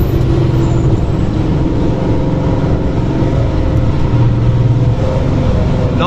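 A VW Scirocco engine pulls hard under acceleration on the Nürburgring, a loud continuous roar heard from inside the car with road and wind noise, and no clear shift breaks.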